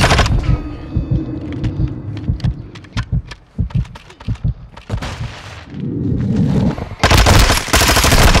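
Automatic gunfire in Modern Warfare 2, a one-on-one online match, crackling in rapid bursts and single shots, with a dense sustained volley near the end.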